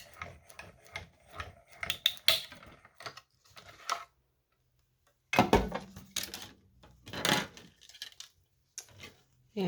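A hand-cranked cut and emboss die cutting machine feeds a die stack through its rollers, giving close, quiet bursts of ratcheting clicks and rubbing separated by short pauses.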